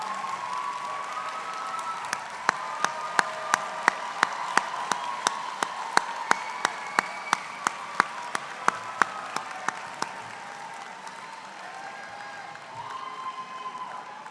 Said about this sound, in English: graduates, could we give them a round of applause?